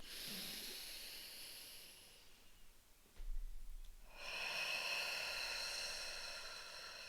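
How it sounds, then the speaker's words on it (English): A slow, deep breath drawn in and then let out, soft and close, a hissing airy inhale followed by a long steady exhale, with no talking over it. "So how about another breath?"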